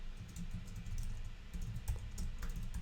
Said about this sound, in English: How am I this bad with this keyboard?